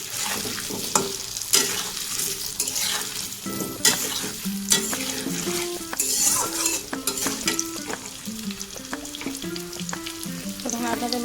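Potato pieces fry in hot oil in a pan for mutton curry, a steady loud sizzle with frequent sharp clinks and scrapes of a utensil stirring against the metal.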